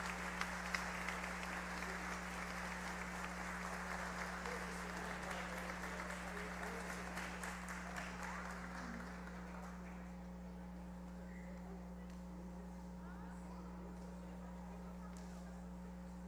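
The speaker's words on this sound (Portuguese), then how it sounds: "E para o Monsenhor Valquimar, uma bonita salva de palmas também, sinal do nosso agradecimento." Worshippers at a night Mass for the feast of Santo Agostinho clap for Monsignor Valquimar, a broad, fairly faint round of applause that tapers away about halfway through, leaving only a steady low electrical hum.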